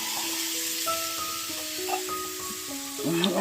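Water poured into a hot kadai already holding turmeric, giving a soft steady sizzle and hiss under faint tonal background sounds.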